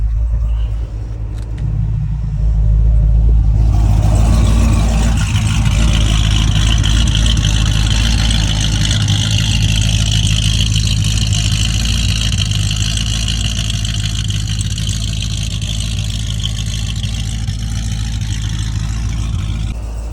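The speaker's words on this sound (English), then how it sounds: "let me open up this exhaust for you so you can hear what this thing sounds like" A supercharged C6 Corvette Grand Sport making over 700 hp, its exhaust cutout open, idles with a deep rumble and then swells into a louder, sustained throaty drone that stays close and heavy throughout.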